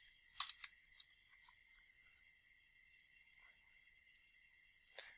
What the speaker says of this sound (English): So I'm typing that in there